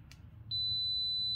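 A Kaiweets KM601 multimeter clicks faintly once during a continuity test, then a steady high-pitched beep starts about halfway through and keeps sounding until the end.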